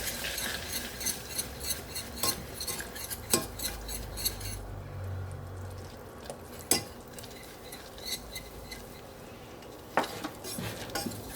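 A whisk working flour into melted butter in a pan, with a quick, rhythmic metallic scraping and ticking against the pan and a few louder knocks, close by and without talk.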